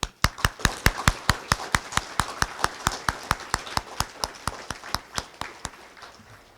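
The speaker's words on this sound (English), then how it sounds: "give yourself a round of applause" Applause at a youth human rights awards evening, a fast, evenly paced run of crisp claps, close and steady for several seconds before easing slightly at the end.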